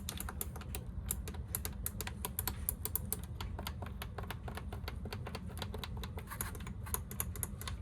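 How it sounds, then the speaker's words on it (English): Buttons on a Beko washing machine pressed over and over, a rapid run of sharp, light clicks close by with no talk. "You see how satisfyingly clicky the other buttons are?"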